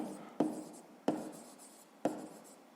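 A pen or pencil writes out a math exercise by hand in three separate bursts, each starting with a sharp tap and trailing into a soft scratch, recorded up close in a quiet room.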